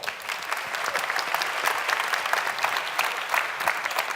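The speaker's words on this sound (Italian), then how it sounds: "Allora, un applauso." A room of graduates and guests at a diploma celebration breaks into continuous, dense applause, many hands clapping at steady loudness from start to finish with no talk over it.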